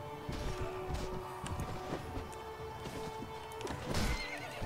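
A horse neighs loudly in Mount and Blade Warband, with clip-clopping hooves and busy game background noise throughout.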